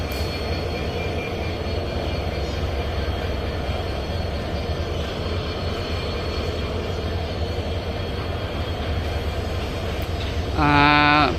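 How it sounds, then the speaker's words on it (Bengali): The Kapotaksha Express rolls out of Rajshahi toward Khulna in a steady, continuous rumble of wheels and carriages, ending in a short, bright squeal of wheels or horn. "ছেড়ে দিল রাজশাহী থেকে খুলনাগামী কপতাক্ষ এক্সপ্রেস"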